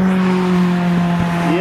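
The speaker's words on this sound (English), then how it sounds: "You can hear them like rip through the mountains." Race cars, among them an Evo, S15, Miata and 86, rip along a mountain touge road at Mt Fuji in Japan, making a sustained engine drone whose pitch climbs near the end.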